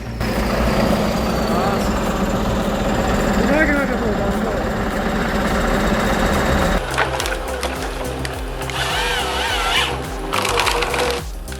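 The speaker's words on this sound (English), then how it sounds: "This machine does it all, cutting, stripping, and measuring logs in seconds." Ponsse Ergo C4 forestry harvester with an H7 head cutting, stripping and measuring logs: a loud, steady engine and hydraulic drone with mechanical whines, then a shift to rhythmic clattering and grinding feed noise.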